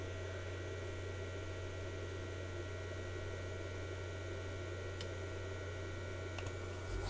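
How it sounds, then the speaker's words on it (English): Cooling fan of an Agilent 53150A microwave frequency counter running, a faint steady hum and low whir, with a couple of small clicks near the end. "So you click the button, the fan comes on."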